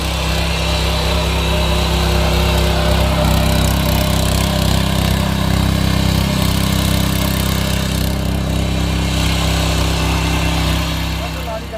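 A 7HP power tiller engine runs close by with a loud, steady drone that holds unbroken throughout.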